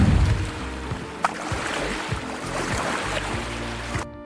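A small boat moves through water with rhythmic splashes and gurgles against the hull, close and steady, with occasional knocks.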